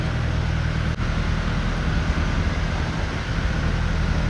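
A ferry boat engine drones steadily at close range with a deep low rumble during a ferry ride in Mangalore.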